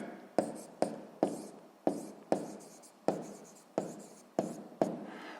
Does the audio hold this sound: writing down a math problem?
yes